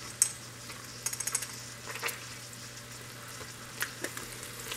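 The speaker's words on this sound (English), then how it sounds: "I'm gonna stir this up and just saute the mushrooms for, I don't know, a couple minutes." Mushrooms seasoned with garlic powder, onion powder, black pepper and thyme sauté in an Instant Pot, a soft, low sizzle punctuated by scattered light metallic clinks from a stirring utensil.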